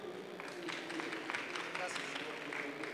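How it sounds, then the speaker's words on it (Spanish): Audience applause at a business pitch marathon, moderate steady clapping from a small crowd with a murmur of voices underneath. "Por favor, un fuerte aplauso."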